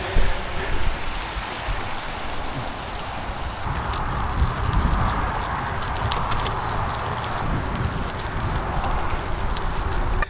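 The River Ancombe flows at the edge of a gravel track, a loud, steady rushing wash of water that continues without a break and is heard alone.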